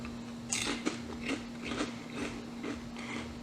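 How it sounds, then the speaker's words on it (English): Fresh, crunchy homemade potato chips being chewed up close, a run of about six crisp crunching bites in a steady rhythm over a faint steady hum. "I don't even know if you can hear those potato chips crunching there"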